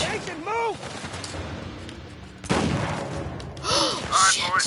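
Shotgun blasts in Uncharted 4 go off in a few sharp, loud bursts amid other gunfire during a chaotic firefight, with voices shouting and talking throughout.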